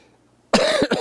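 A sudden, loud cough bursts out after a moment of near silence, one harsh hack followed by a second shorter one, close by.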